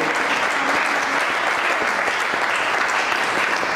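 Many hands clap together in a church congregation, a thick steady burst of applause that stays loud and even throughout.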